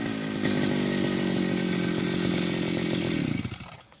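A Kaaz TD40 grass cutter cuts grass, its engine roaring loud and steady close by before the whine drops away in the last half second; no talking is heard.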